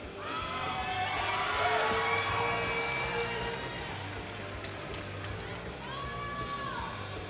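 Spectators at a men's timber sports championship cheer and shout, a loud mix of yells and whoops swelling early and then settling into a steady murmur with a few scattered high calls.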